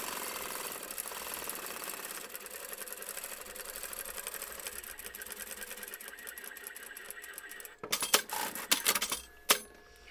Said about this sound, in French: Et on va coudre donc tout du long.